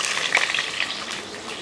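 Garlic frying in hot oil for a rasam tempering, a soft, steady sizzle with light crackles, close and faint with no talking.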